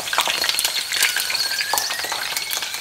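Jalapeño chilies frying in a pan of hot oil for a salsa, a dense steady sizzle with sharp spattering pops and a few faint metallic clinks, close and loud throughout.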